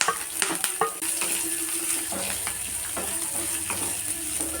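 Onions frying in hot oil with curry leaves, ginger and green chilli, a loud continuous sizzle with a few stirring scrapes near the start.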